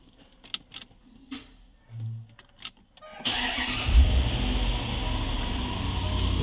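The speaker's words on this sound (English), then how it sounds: "Let me start the car again." A car engine cranks and starts abruptly a few seconds in, then settles into a steady close idle after some quiet clicks and handling noises.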